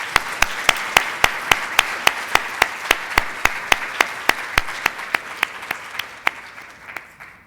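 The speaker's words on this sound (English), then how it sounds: "Maybe we can have a big round of applause for our panelists." Steady, evenly spaced handclaps fill a conference room as an audience applauds panelists, close and fairly loud with a regular rhythm that slows and thins out over about seven seconds.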